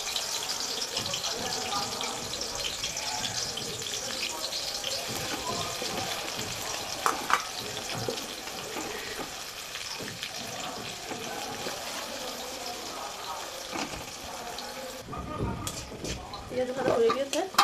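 Chopped onions fry in oil for chicken biryani, a continuous sizzle mixed with pan clatter and stirring knocks, with some louder scraping and bumps toward the end.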